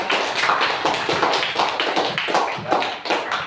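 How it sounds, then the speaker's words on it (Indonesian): A classroom of students gives a round of applause, a close, busy patter of hand claps with a rough rhythm that carries on evenly throughout, with no talk over it. "Kita beri aplaus dulu."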